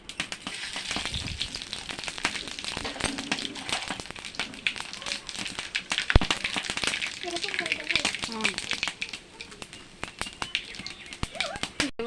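Panch phoron five-spice seeds sizzle and crackle in hot oil for a Bengali pui shak and pumpkin dish, a steady close frying hiss with scattered pops beneath a voice talking.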